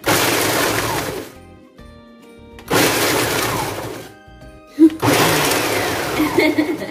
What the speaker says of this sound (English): use my Ninja blender to blend them up into a crumb